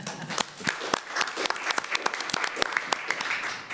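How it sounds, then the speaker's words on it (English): Applause from an audience at a school board of education meeting, a dense continuous patter of many hands clapping for several seconds with no talk over it. "Give yourself a round of applause."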